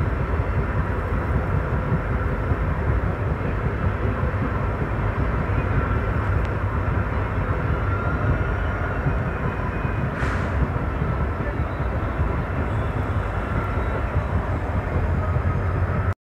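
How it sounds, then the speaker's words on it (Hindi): Intercity train hauled by a WDP4D diesel locomotive arriving at Luni Junction, a loud continuous rolling rumble and rattle from start to finish. "अपनी ट्रेन अराइवल ले रही है लूनी जंक्शन पर"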